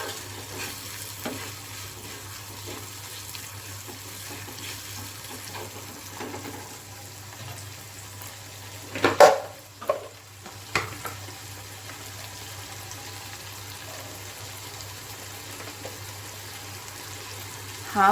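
Ginger garlic paste sautéing in a pan for vegetable poha, a steady low sizzle with soft stirring and a few sharper scrapes of the spoon near the middle, no voices.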